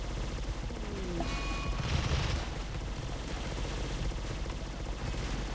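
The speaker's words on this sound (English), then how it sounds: "Yeah, they're shooting like crazy, but they don't seem to do a massive amount of damage." Turrets and raiders trade sustained gunfire in the RimWorld video game: a dense, unbroken crackle of shots that swells briefly near the middle and continues steadily to the end, with no one talking.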